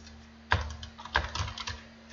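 Keys on a computer keyboard clatter in quick uneven bursts, with two sharper clusters of strokes, close and clear over a faint steady hum.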